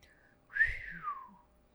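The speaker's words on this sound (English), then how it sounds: "you didn't get the whistling from me" A person whistles a short two-part phrase, a sliding rising then falling tone lasting about a second, close and clear against a quiet background.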